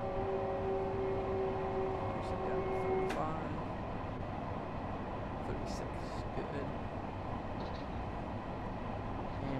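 A Train Sim World 4 subway train rolls steadily near Yankees–East 153 St toward Grand Central, a dense continuous rumble with a fading horn-like tone at the start and faint clicks above.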